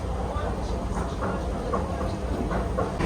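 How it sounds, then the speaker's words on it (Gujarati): A train rumbles and clatters close by, arriving at a station for Oberhausen, a loud rolling noise with faint metallic clicks, while voices are heard over it. "ટ્રેન આવી ગઈ છે"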